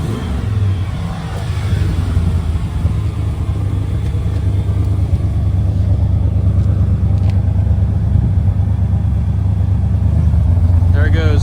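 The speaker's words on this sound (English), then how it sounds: "You hear that miss, and then it just goes in and idles rough." An old Ford OBS pickup truck engine runs loud and close, stumbling with a misfire before settling into a rough, uneven idle with a changed tone; a low steady rumble persists throughout.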